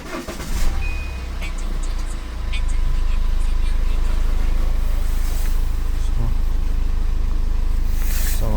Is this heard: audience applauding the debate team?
no